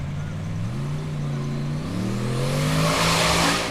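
A formula offroad buggy climbs a steep hill at an Icelandic competition in Hafnarfjordur, its engine revving hard and rising steadily in pitch as it climbs, loud and close throughout, with some crowd or wind noise building toward the end.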